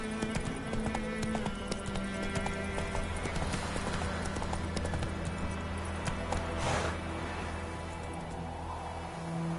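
A horse gallops in The Witcher 3 video game, with steady rhythmic hoofbeats clip-clopping over game ambience and a brief whinny, while a voice speaks faintly in the background.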